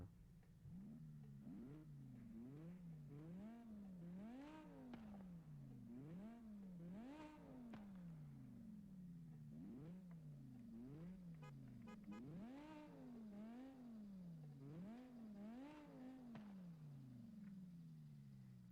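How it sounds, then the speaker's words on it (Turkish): A BMW M5 E60 engine in the video game Forza Horizon 5 revs repeatedly in a steady rhythm, the pitch rising and falling with each blip of the throttle, with no talking. "Motor sesine bakın ya."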